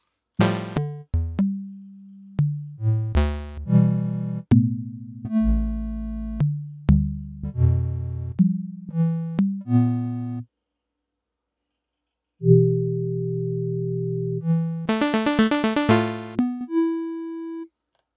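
A dry synthesizer melody with its low-pass filter and reverb removed in Reaper plays a series of bright, plucky tones and sustained notes with one brief silent gap, with no talking.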